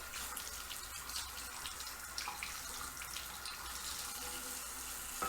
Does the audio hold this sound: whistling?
no